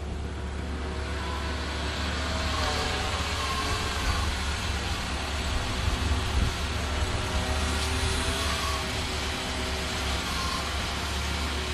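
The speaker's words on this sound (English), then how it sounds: "You heard how quiet the engine was as the truck climbed the step at minimal engine speeds." A Linde 39X hydrostatic forklift truck climbs a step at minimal engine speed, its engine giving a steady, low, even hum with a faint whine over it that continues unbroken throughout.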